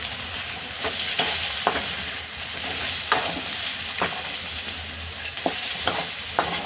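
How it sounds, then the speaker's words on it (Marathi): Crushed papad stir-fried in a pan for a quick papad chutney, giving a steady close sizzle broken by sharp scraping clinks of a spatula against the pan every second or so, with no talking. "हे जे पापड आपण कुस करून घेतले होते हे आपण टाकून घेऊया ह्यामध्ये आणि दोन मिनटं परतून घेऊया व्यवस्थित"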